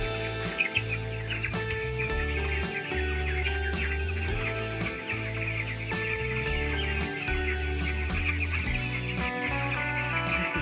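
Broiler chickens crowded in a poultry farm shed on a very hot day, a dense continuous chorus of clucks and chirps from many birds over a steady droning hum, close and constant, with no voices.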